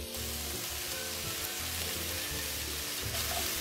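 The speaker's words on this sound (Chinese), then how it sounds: "加入红辣椒丝，然后再将乌冬面加入拌炒。" Red chili strips and udon noodles stir-fry in a pan with a steady, faint sizzle and low stirring scrapes, without any talk.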